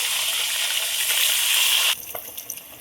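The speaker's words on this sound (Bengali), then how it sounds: "তো দেখো মাছ 1 পিঠ ভাজা হয়ে গেছে আর 1 পিঠ ভাজার জন্য উল্টে দেবো।" Rohu fish pieces fry in hot oil in a pan, a loud steady sizzle that cuts off sharply partway through and leaves faint clinks and quiet crackles.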